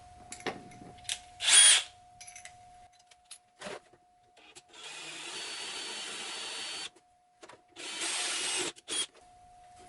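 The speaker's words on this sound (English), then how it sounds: "I am undersized drilling this" Power drill boring undersized holes into a Ghostbusters Spirit Pack prop part, heard in two sustained loud whirring runs with short bursts and gaps between them.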